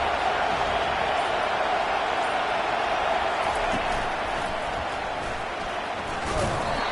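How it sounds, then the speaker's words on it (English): Stadium crowd at a Utah vs USC college football game roaring in a loud, continuous wall of sound that holds steady throughout, with no distinct breaks. "This crowd bringing an ear-splitting welcome to their visitors."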